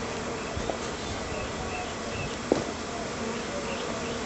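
Live bees inside a mailed package give off a steady, dense buzzing hum throughout, fairly close, with a couple of faint knocks against the box.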